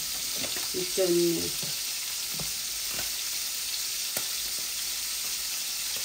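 A little white oil sizzles in a small cooking pot, a steady hissing fry with a few clinks and knocks, and a brief voice-like sound early on.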